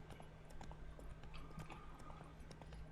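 Roach, a horse in The Witcher 3 video game, trots with quick, steady hoof clip-clops, faint and close over a low ambient hum.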